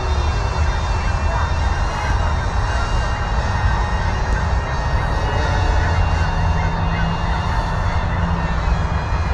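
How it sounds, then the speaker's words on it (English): Ducks honk on Lake Sammamish, scattered calls heard beneath the constant close whine of a DJI Avata FPV drone's motors. "Here comes some more ducks."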